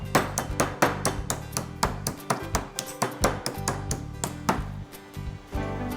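Repeated sharp pounding blows from a meat mallet flattening chicken, close and fairly loud, striking in a quick, uneven rhythm.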